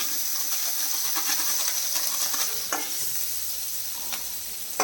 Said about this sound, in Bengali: ক্যাপসিকাম কুচি আর টমেটো কুচি, আমি এগুলো একটু হালকা আছে ভেজে নিচ্ছি।